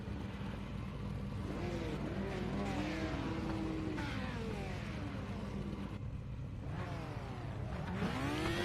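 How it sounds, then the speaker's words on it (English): Safety car engine revving and pulling away at the start of an iRacing oval race at Thompson Speedway, a loud continuous engine roar with rising and falling pitch sweeps, other car engines blending in behind. "Safety car sets off, as does Mikey Doble."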